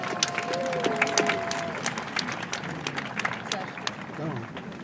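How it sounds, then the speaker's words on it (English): Scattered applause from a crowd at a high school commencement ceremony, a busy mix of clapping with sharp individual claps over a murmur of voices and movement. "Let's give them a round of applause as well"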